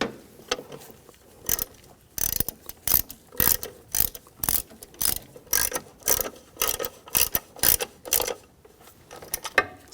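Ratchet tightening bolts on a 2010–2014 Volkswagen GTI water pump, a rapid series of sharp clicking bursts in quick repeated strokes, close and crisp with short gaps between pulls.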